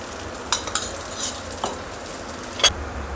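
A cabbage paratha fries in ghee on a pan, a soft continuous sizzle with a few sharp scraping clicks from a turner, close and fairly quiet.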